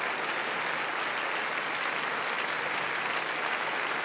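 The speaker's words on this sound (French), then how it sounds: "tout l'orchestre bat de l'archer" An orchestra applauds by tapping bows at the final of a televised classical music competition for young performers, producing an even, sustained patter with no voices over it.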